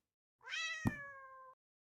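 A pet cat lets out a single clear, close meow lasting about a second, with a brief click partway through, in an otherwise quiet room.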